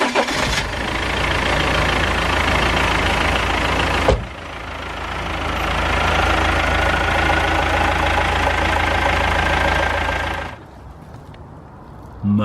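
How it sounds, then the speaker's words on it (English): BMW E46 engine after a downpipe replacement, starting up and settling into a steady, loud idle close by, then cutting off and restarting briefly near the end, with no talking. "I'm actually just going to go ahead and fire up the engine just to make sure we have no exhaust"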